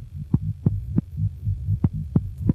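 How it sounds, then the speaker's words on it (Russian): Heartbeat sound effect, a deep thumping pulse in steady paired beats, about eight throbs in under three seconds over a low hum, close and fairly loud. "Когда была названа улица, где жила его любимая, пульс заметно участился."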